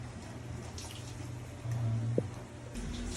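Water is poured while a British shorthair cat is being bathed, running and splashing faintly with a brief drip-like knock partway through, in a quiet indoor space and with no speech.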